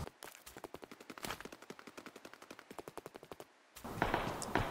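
Rapid automatic gunfire during a video game firefight, a loud, steady stream of evenly spaced shots with a brief gap, ending in a harsher burst of noise.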